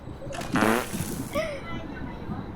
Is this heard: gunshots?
no